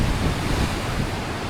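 Ocean waves breaking at the Fishery Bay surf break, a continuous heavy roar of churning surf mixed with strong wind buffeting the microphone, loud and unbroken throughout.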